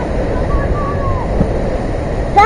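Sea waves break and splash against the Cazino seafront cliff at Constanta in January, a steady loud wash of surf and wind with a sharper splash right at the end.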